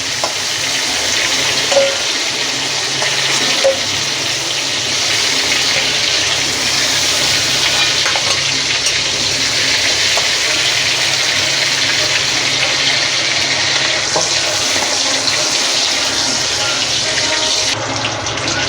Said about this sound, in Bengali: মাছটা আমি উল্টে দেব, এপিট ওপিট হালকা লাল করে একটু ভেজে নেব